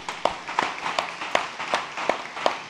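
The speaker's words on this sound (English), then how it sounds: "Let's give them a big clap." A church congregation at a Sunday Mass claps in a slow, steady rhythm, about seven or eight sharp, roughly evenly spaced claps ringing through the hall.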